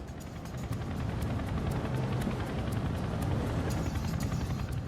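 A Chinook helicopter flies at low level across the Antrim Hills, its rotor and engine rumble loud, close and steady for the whole stretch, with no voices.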